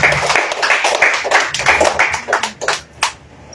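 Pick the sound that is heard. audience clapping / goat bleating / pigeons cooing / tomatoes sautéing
audience clapping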